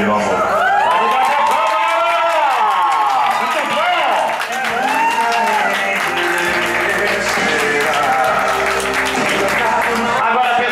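A church crowd at a birthday celebration claps continuously and loudly, with cheering and voices woven through the dense applause.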